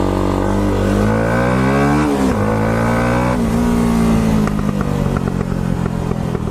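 A Yamaha YZF-R 125 motorcycle engine revs loudly and close, its pitch climbing and dropping through several throttle blips, with crackling pops from the exhaust running underneath throughout.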